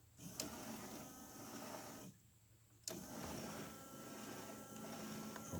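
The windshield wiper motor on an MGB runs with a steady mechanical whir. It stops briefly partway through, then starts again at the same even level.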